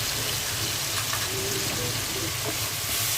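Papaya, carrot and cauliflower frying in a pan with soy sauce and tomato sauce for vegetable fried rice, a dense continuous sizzle close up with faint clinks, no talking.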